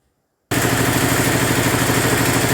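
A Kentavr 10 hp walk-behind tractor engine bursts into sound after a half-second of silence, then runs with a loud, steady, rapid thumping clatter close by, with no talking.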